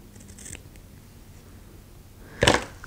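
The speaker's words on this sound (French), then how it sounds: "Et je vais la couper en deux." Scissors snip a paper star in two, with a faint early cut followed by a sharper, louder snip close by near the end, and no talking.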